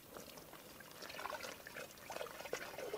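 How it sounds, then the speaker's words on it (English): Hot water poured by hand into a Joolca HOTTAP portable shower makes a faint, continuous trickling splash, quiet and close, with no talk. "pouring this water in here."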